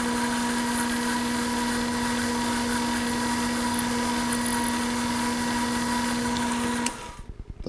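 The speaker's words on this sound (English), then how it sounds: "The second operation is to drill at the center hole. That's for a 1/4 tap. That's a number 7 drill." A machine drilling the center hole in an aluminum hand knob with a number 7 drill, a steady high-pitched motor whine held evenly for several seconds before it cuts off abruptly near the end.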